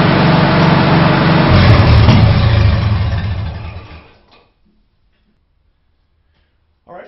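A Farmall H tractor engine idles steadily and evenly, rumbling loudly for several seconds, then cuts out into near silence before a faint sound at the end.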